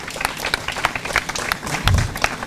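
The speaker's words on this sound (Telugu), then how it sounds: "చక్కని స్కిట్ వేసిన చిన్నపిల్లలందరికీ మరి ఒకసారి మీ అందరికీ కూడా చప్పట్లు కొట్టాలని కోరుతున్నాం" An audience gives a short round of scattered clapping after a children's skit, individual claps audible and close, with a low thump near the end.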